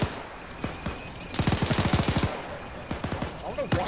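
Rapid anti-aircraft gunfire in a military video game, with bursts of fast repeated shots and scattered single reports, moderately loud and slightly distant, and a voice heard faintly between the volleys.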